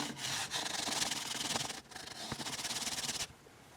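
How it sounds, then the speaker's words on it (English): A StuMac polishing pad rubs back and forth along the fret edges of a dirty guitar neck, a close, loud, rhythmic scrubbing in a few strokes with brief pauses. "take one of our StuMac polishing pads and just go along here and hit the edge"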